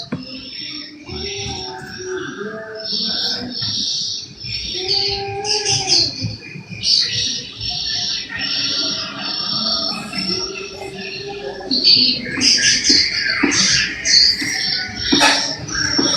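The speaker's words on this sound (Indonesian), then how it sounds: "Ini yang banyak suara burung di mana ya?" Several birds chirp and call in short, scattered bursts, some trills and tweets overlapping, at moderate distance throughout, with faint background murmur and no clear speech.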